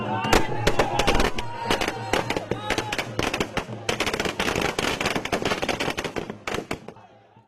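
Rapid strings of sharp firecracker bangs crackle continuously for several seconds at an election victory celebration, dense and loud, thinning out near the end.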